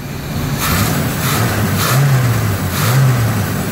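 An RV engine revs on the throttle, a steady close rumble with two rising-and-falling rev swells, the engine running after a fuel line repair.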